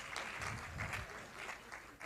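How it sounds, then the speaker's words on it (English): Steady applause from an anniversary ceremony audience at a university institute, dense overlapping claps sustained throughout at an even, fairly loud level. "let's encourage him with our applause"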